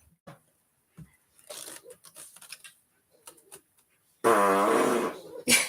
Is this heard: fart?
yes